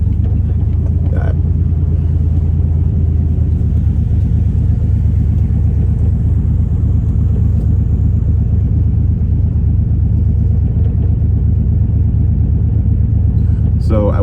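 A Buick Grand National engine runs during a test drive and tune, a loud, steady low rumble that fills the whole stretch with a constant drone and no clear pauses.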